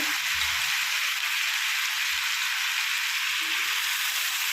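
Chicken pieces coated in gram flour and turmeric for hariyali chicken sizzle steadily in a pan, a continuous dense frying hiss with a few faint low knocks underneath.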